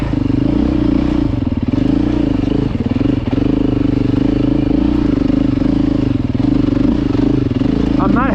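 A Beta 4-stroke dirt bike engine hums steadily and close, easing on and off the throttle with a low continuous drone and light clatter, a voice talking over it.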